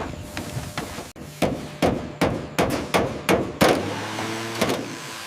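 Rivets hammered on an old airplane, a series of sharp metallic blows at an uneven rhythm, about a dozen close loud strikes with brief ringing tails, no talking.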